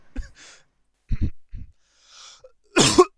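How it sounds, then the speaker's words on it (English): A few short, sharp coughs break the quiet, spaced out with breathy pauses, ending in one louder, harsher cough. "Cough again so we can make the joke."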